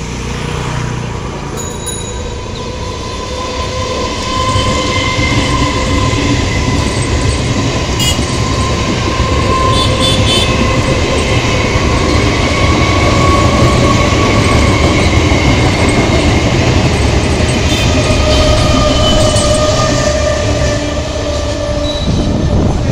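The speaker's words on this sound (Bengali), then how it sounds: "31417 আপ শিয়ালদা নৈহাটি লোকাল।" The Up Sealdah–Naihati local train, number 31417, rolls loudly through Shyamnagar station, with a sustained rumble of wheels, rail clatter and faint squealing for the whole stretch.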